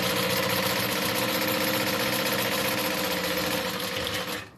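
A sewing machine runs steadily, stitching through a leather clutch wallet, a continuous close mechanical whir with rapid needle strokes that stops abruptly at the very end.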